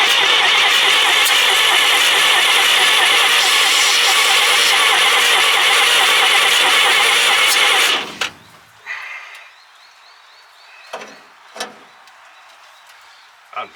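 The six-cylinder engine of an old Chev Blitz truck with a rebuilt carburettor runs loud and steady close by for about eight seconds, then cuts off, leaving faint knocks and clatter.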